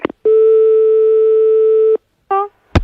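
Telephone line tone during a failed call, a steady loud electronic tone holding for nearly two seconds, then a shorter tone burst and a click, with no voices over it.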